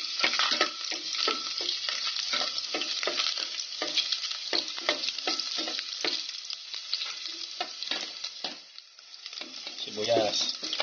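Garlic sizzling steadily in a hot pan while stirred, loud continuous frying crackle with repeated scraping strokes of a utensil, no talking.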